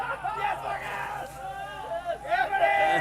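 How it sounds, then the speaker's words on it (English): Spectators at a canopy piloting competition at Skydive Arizona cheer and whoop for an incoming competitor, a lively crowd of voices rising and falling with shouts and chatter. "everybody cheering him on"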